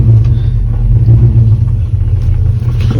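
An LS-swapped Chevrolet C10 truck stuck in limp mode with only three gears, on a test drive, its engine giving a loud, deep, steady rumble that shifts only a little in pitch, with no talk.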